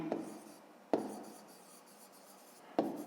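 A pen or pencil writes on paper up close and quietly, with three sharp tap-like strokes followed by soft scratching, during a 5th-grade math exercise.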